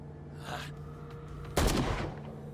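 Gunshots in the Call of Cthulhu video game: a faint shot or two early, then one loud, sharp blast near the middle that rings out and decays under a low ambient hum.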